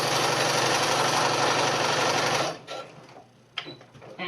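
A sewing machine stitches a fabric mask with a steady, fast, close mechanical whirr for a few seconds, then stops, leaving soft handling clicks and thumps.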